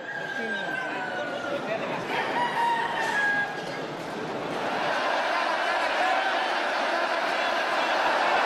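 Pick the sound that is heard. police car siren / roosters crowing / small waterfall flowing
roosters crowing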